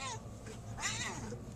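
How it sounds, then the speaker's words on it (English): A fat cat lets out a couple of quick, close meows, a short one at the start and a longer wavering one soon after, with a person faintly audible nearby. "I'm going to torture this fat cat here"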